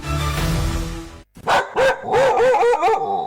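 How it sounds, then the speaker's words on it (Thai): A dog barks in front of a house in a radio drama: after a brief noisy lead-in, a close, loud run of about five sharp barks and yips follows in quick, uneven succession. "มีหมาที่ไหนก็ไม่รู้เห่าอยู่หน้าบ้านเรา"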